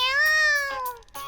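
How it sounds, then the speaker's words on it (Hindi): A cartoon cat cries out in a long, loud, wavering meow, followed by shorter yowls, with no talking over it. "फिर दोबारा बिल्ली बेचारी चिल्लाती रहती है।"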